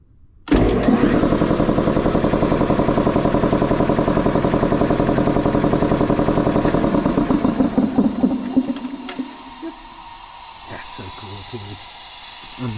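An air compressor motor starts abruptly and runs with a loud, steady mechanical drone and pulsing hum, then unloads with a hiss and winds down to a quieter steady tone.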